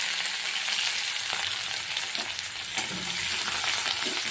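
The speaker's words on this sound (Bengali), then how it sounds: "ফোড়ন দেওয়ার পর গ্রেট করা আদা আর কাঁচা লঙ্কাটা দিয়ে দিলাম" Grated ginger and green chilli frying in a cumin and dried red chilli tempering: a continuous bright sizzle with occasional stirring scrapes, close and steady, with faint music underneath.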